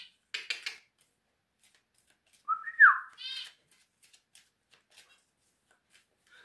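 A short rising-and-falling whistle sounds once, brief and fairly close, set among light clicks and rustles in an otherwise quiet room.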